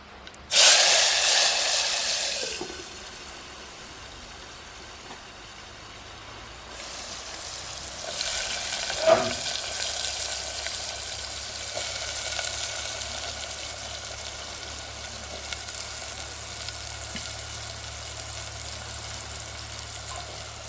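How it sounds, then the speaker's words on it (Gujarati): Chopped bottle gourd drops into hot oil tempered with mustard and cumin seeds, setting off a loud sizzling burst that soon settles into a quieter, steady frying hiss. "અને આપણે વઘાર કરી નાખીએ દૂધીનો"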